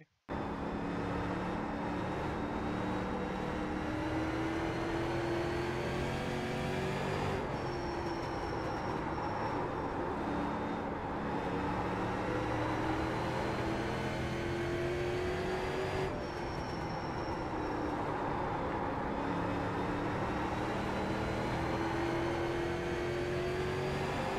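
A Street Stock car racing an onboard lap around the short Langley Speedway oval in iRacing, its engine droning steadily and loudly throughout, pitch rising and falling in regular cycles as it accelerates down straights and eases into the turns.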